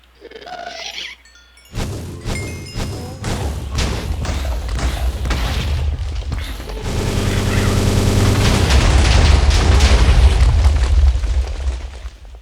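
A Ghastster from the Minecraft Engender mod firing several fireballs at once, setting off a quick series of loud booming explosions that soon merge into a sustained roaring blast.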